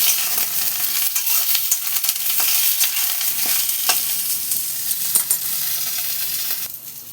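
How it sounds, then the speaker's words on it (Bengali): Chopped onion and potatoes fry in a pan with an even, close-up sizzle, punctuated by regular scrapes and taps of a spatula stirring them. "এই যে পেঁয়াজ কুচোনোটা দিয়ে ভাজছি একটুখানি নরম হয়েছে পেঁয়াজটা এর মধ্যে আলুগুলো দিয়ে দিই"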